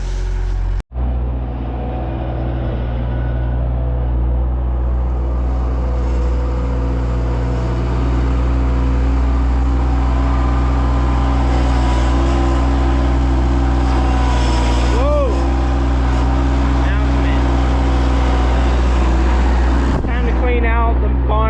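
Skid loader engine droning loud and close on a farm, a steady heavy rumble that holds throughout with slight shifts in pitch, a brief cutout near the start and a voice speaking over it.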